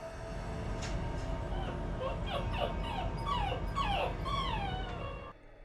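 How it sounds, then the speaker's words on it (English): A frightened dog whimpers and whines in a string of rising and falling high cries, fairly close, over a steady background rumble that cuts off at the end. "Even the dog is afraid."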